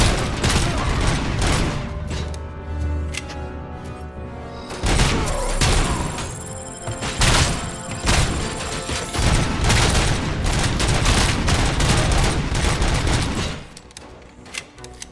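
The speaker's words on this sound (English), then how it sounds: "Where am I getting shot from?" Rapid gunfire in RoboCop: Rogue City rattles in loud, dense bursts for several seconds, close and punchy with heavy thumps mixed in, easing off near the end.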